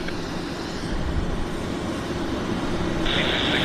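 Airliner engine noise from an Airbus A319 at Vancouver airport, a steady broadband roar that holds level throughout, with a brighter high whine joining near the end; no voices.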